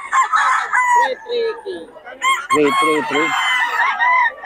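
Chickens cluck loudly and a rooster crows close by at a market in Bocaue, with the birds calling almost continuously and someone speaking briefly among them.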